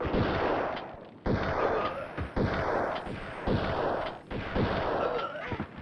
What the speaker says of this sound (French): Je me sers beaucoup plus du fusil à pompe dans cet opus-là.